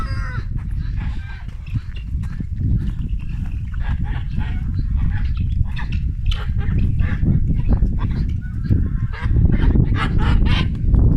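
Geese honk repeatedly alongside ducks at a farmyard, a busy overlapping chorus of calls that stays fairly loud throughout with steady background noise.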